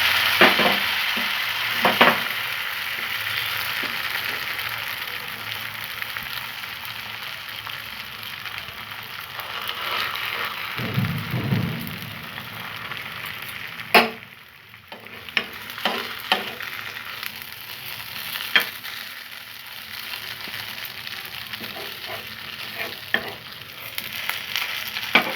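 Patisapta, a Bengali milk-filled pancake, sizzling steadily in a hot pan, with a continuous close frying hiss broken by a few sharp clicks and scrapes of the spatula as it is turned.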